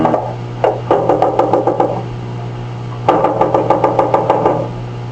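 Knocking on a house door as a sound effect in a 1939 old-time police radio drama played on a 1930s radio: two bursts of rapid knuckle raps, about six or seven each, over a steady low hum.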